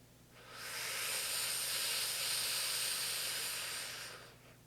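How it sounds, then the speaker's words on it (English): One long, close, airy breath is drawn in during a guided deep-breathing exercise, swelling into a steady hiss for about four seconds and then fading away. "take another deep breath in"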